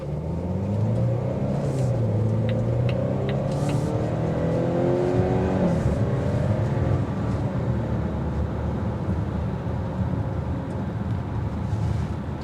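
A 2023 Volvo XC60 B5 Plus Dark Theme pulls away from a standstill in the middle of a road, its engine note climbing through rising revs before settling into a steady, loud rumble of road and cabin noise.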